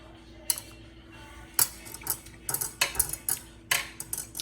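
A knife cuts a small piece of Trip L Crop tomato, the Italian tomato tree fruit, in a series of sharp, close clicks and taps of blade against board, unevenly spaced, with no talking.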